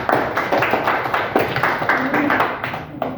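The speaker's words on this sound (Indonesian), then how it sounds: "Kita tepuk tangan dulu buat kelompok" A classroom of students claps for a group that has just finished presenting in a coding lesson, with irregular claps running steadily for a few seconds and some voices mixed in.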